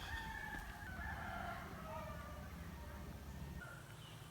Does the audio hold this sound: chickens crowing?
yes